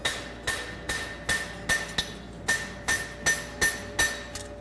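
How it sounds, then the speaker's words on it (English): Close, sharp ringing hammer blows drive nails into a Z bar horseshoe, about a dozen strikes in an even, steady rhythm with no talk. "All right, now hammer around the backside."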